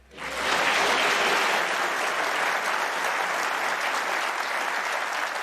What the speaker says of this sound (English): Ironic applause, Eureka.